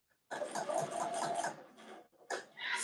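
A domestic sewing machine stitching a boxy bag, running in a steady close whir for about a second, then stopping and starting again in short bursts.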